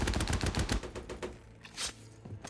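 Dense gunfire from the 2014 war movie Fury, a loud rattling fusillade of overlapping shots that thins into a scattered echoing tail with a couple of later bursts.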